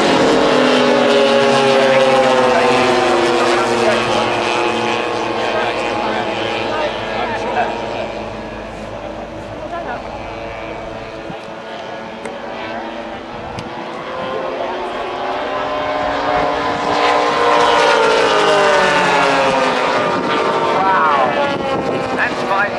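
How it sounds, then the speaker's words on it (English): A twin-engine Junkers 88 warbird landing at an airshow in the UK: a loud, continuous propeller-engine roar with wavering tones that softens mid-pass and swells again as the aircraft moves past. "And the Yonkers 88 coming in for a landing."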